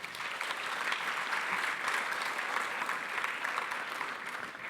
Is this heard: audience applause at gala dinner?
yes